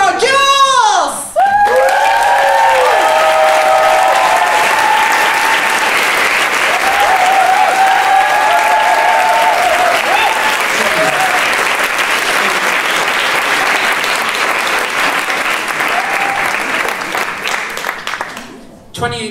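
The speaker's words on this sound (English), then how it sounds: "A big applause for Jules!" A large audience breaks into loud, sustained applause with cheers and whoops, after a brief voice at the start, fading slightly near the end.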